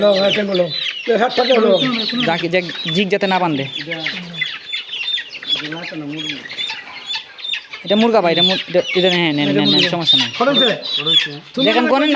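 A flock of six-week-old Fayoumi chickens at a poultry farm in Sylhet gives a dense, steady chorus of overlapping clucks and calls, close and loud throughout.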